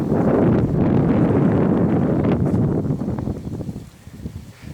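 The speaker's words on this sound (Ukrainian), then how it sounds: "вітер дуже сильний, але він південний" Strong southerly wind buffets the microphone in loud low rumbling gusts that ease off toward the end, outdoors in January.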